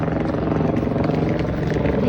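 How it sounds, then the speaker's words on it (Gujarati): A helicopter passes overhead on the mountain route to Kedarnath, giving a loud, continuous droning hum with a steady rotor throb. "જો હેલિકોપ્ટર જાય"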